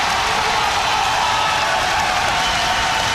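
Crowd at a grappling match cheering and applauding, a dense, loud, continuous wash of cheers with no breaks.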